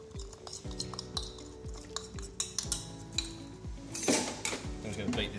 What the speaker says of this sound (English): Mix in my coffee.